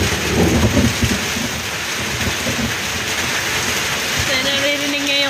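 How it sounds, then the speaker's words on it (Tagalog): Heavy rain pours down during a thunderstorm, and thunder rumbles low and loud under the steady hiss of falling water. A faint tonal hum rises near the end. "So, naririnig niya yung kulog guys."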